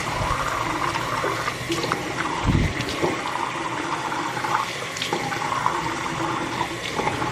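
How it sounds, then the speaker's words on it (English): Water runs from a household tap into a sink as a child's hands are washed, a steady splashing rush lasting throughout, with brief louder splashes and faint voices beneath it. "Help your sister wash her hands."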